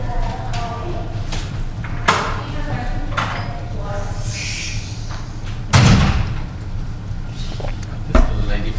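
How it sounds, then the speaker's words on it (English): A door is pushed shut indoors with a solid thud, followed by a second heavier thump, while someone talks steadily over a constant background hum. "I'm just going to close this door"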